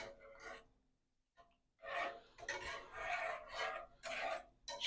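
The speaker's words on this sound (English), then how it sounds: "And then you're just going to whisk this all together." A whisk beats sauce ingredients with parsley flakes together in a bowl, giving close, rapid, scraping bursts that start after a brief pause and continue in uneven surges without talk.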